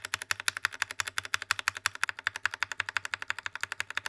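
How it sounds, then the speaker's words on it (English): Akko jelly switches on a mechanical keyboard being typed on in a sound test, a fast, even run of crisp clicky keystrokes, close and clear, without talk. "Take a listen to the sound test, lubed and unlubed."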